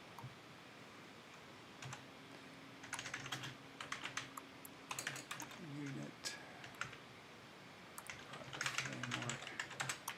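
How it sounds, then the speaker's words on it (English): Typing on a computer keyboard during a C# coding session, with bursts of rapid clicking keystrokes in clusters across the clip, close and moderately loud, while a person talks over it. "Typing it in."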